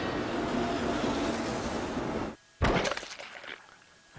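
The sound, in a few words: train braking hard in station, from the video game Steins;Gate Elite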